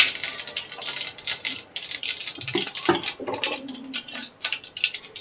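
Mustard seeds and cumin splutter in hot oil as a tempering for a Malvani bhogichi bhaji, a close burst of rapid, irregular crackles and pops that thins out toward the end, with no voices.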